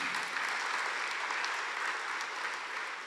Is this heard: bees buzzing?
no